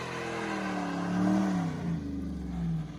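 A car engine revs in a video game during an EU RLCS Rocket League esports broadcast, with a smooth rising and falling mid-pitched whir that swells near the middle and settles into a steady drone over about three seconds.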